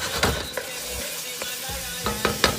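Berbere and mekelesha spices simmering in a pot for an Ethiopian grouper fish stew, a steady soft sizzle broken by a few sharp clinks and scraping stirs.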